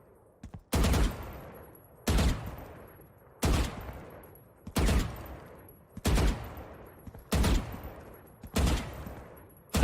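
Gunfire in the video game Valorant, eight evenly spaced single shots or short taps, each loud and sharp with a decaying tail, alone without talk.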